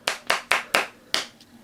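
Hand claps given as a score, five sharp distinct claps in a steady rhythm with the last one after a short pause, close and alone with no talk.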